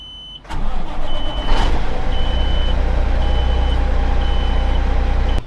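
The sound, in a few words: truck engine starting and building up air pressure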